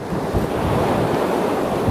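Wind of about 70 mph roars through trees above a backpacking tent, a dense continuous rushing surge that swells and buffets the microphone without letup.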